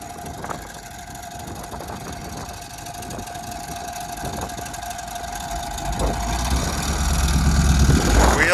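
A Detroit Diesel engine in a runaway roars steadily with a constant droning hum and faint knocking, the noise swelling louder toward the end.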